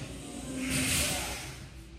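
A truck with a trailer releases one hiss from its air brakes during a brake check. The burst swells over about half a second and then fades, loud and close.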